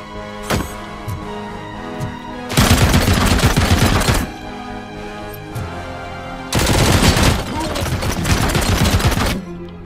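Machine gun fire in RoboCop: Rogue City, two loud sustained bursts of rapid automatic shots each lasting a couple of seconds, set over quieter game sounds and a few scattered single shots.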